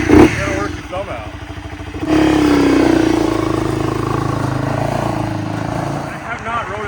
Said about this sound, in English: I had a guy say that I rev bikes too much.